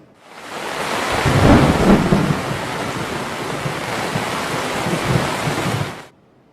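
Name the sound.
heavy rain during a storm in Gujarat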